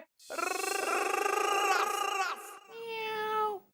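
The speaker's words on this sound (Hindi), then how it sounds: "ए बिल्लू, बिल्ली आ गई है, भगा बे।" A cat meows twice in a row, loud and close, the first call long and wavering, the second shorter and more tonal.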